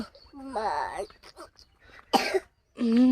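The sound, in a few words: coughing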